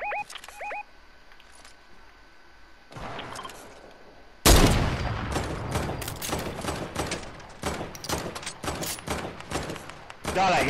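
Gunfire from the player's gun in a video game: after quiet game beeps and a lull, a loud stretch of rapid, irregular shots crackles close up for several seconds, with brief pauses between bursts.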